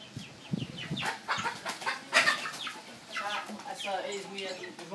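Hen clucks sound close by, short and irregular, mixed with people chatting and rustling in the background.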